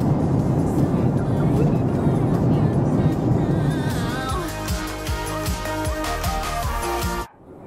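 Cabin noise of an airplane in flight over the United States, a loud continuous roar and rumble, later joined by tonal music-like sounds, ending abruptly; voices are faintly present.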